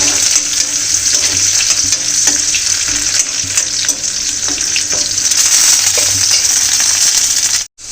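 Potatoes and onions sizzle steadily in a pan with turmeric and salt, a loud continuous frying hiss with occasional stirring scrapes and clinks, ending in a brief cut of silence.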